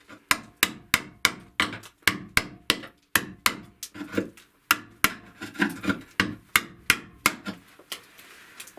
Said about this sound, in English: I'm going to use my scraper tool and maybe a hammer and chisel as well.